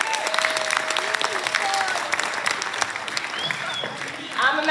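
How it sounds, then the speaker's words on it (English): A school musical audience applauding at the close of the show, a dense wash of clapping that runs the whole time, with a few voices and cheers mixed in and brief whistle-like calls near the end. "Let's give them a round of applause."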